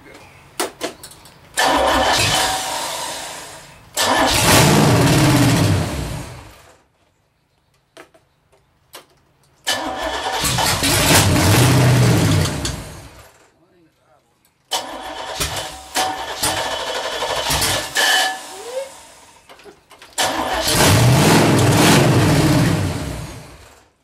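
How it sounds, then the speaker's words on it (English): A 383 stroker car engine is fired up and revved in loud, close bursts of several seconds each, separated by near-silent pauses. "I got her fired up, and I run it at 2200 RPMs"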